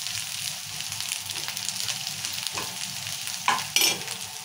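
Okra curry with ginger fries in a pan as turmeric is stirred in, giving a steady soft sizzle under scraping spoon strokes, with a couple of louder clanks near the end.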